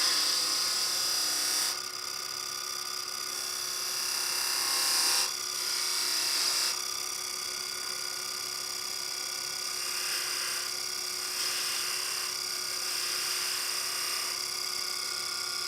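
A wood lathe spins steadily while a skew chisel cuts a V into a bead, giving a continuous high whine with a hum beneath and intermittent scraping bursts as the tool bites.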